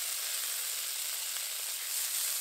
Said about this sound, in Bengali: গিমের শাকটাকে ভালো করে ধুয়ে নিয়েছি, এবার তেলের উপর দিয়ে দেবো।